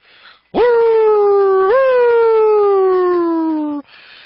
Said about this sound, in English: Big Frank turns on the siren and heads out of the station.